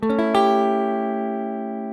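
Two sustained chords, a major 7 and then a dominant 7, ring out on a melodic instrument, struck close together at the start and left to decay slowly and cleanly with no talking.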